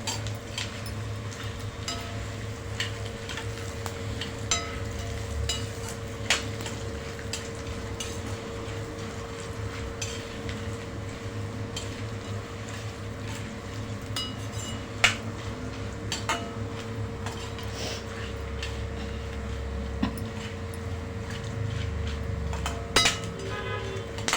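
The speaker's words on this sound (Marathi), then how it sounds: "आता आपण खोबरं लाल होईपर्यंत भाजून घ्यायचं" Coconut and peanuts roasting in a pan for bhadang (puffed rice chiwda), with steady scraping and stirring clinks of a utensil against the pan over a continuous low sizzle and hum, no voices.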